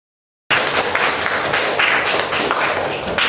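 A classroom of students applauds a classmate during a Pythagorean theorem microteaching lesson, sustained brisk clapping starting abruptly after a short silence and continuing steadily to the end.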